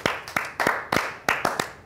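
Rhythmic hand clapping in short, evenly spaced sharp claps, fairly close and moderately loud, with no talk over it.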